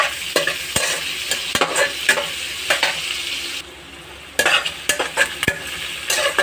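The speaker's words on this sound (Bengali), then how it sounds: "আর এগুলো একটু ভেজে নেব ভালো করে।" Onions fry in a wok for dum biryani, with a sizzle under sharp, irregular scrapes and taps of a spatula stirring against the metal, a brief quieter pause midway, then the stirring resumes.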